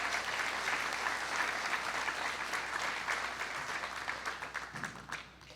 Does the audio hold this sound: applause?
yes